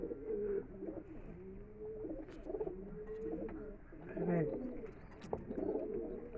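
A restless female Madrasi pigeon coos in a cage in a steady run of low, wavering calls that carry on through the whole stretch, close by and moderately loud.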